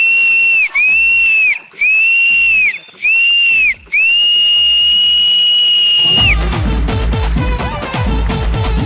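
Loud shrill whistles from the audience at a televised dance competition sound in several long sustained blasts separated by short gaps. Loud music with a strong beat then takes over.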